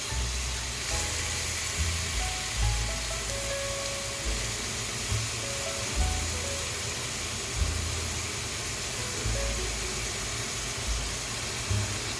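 Maple balsamic pork chops searing in a hot pan give a steady, close hiss and sizzle with faint crackling pops, continuous and even throughout, with no talking.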